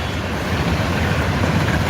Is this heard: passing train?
yes